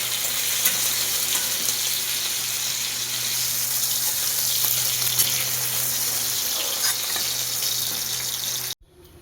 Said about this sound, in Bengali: চলুন তেল গরম হয়ে গেছে শুকনো লঙ্কা দিলাম গোটা গরম মশলাটা দিলাম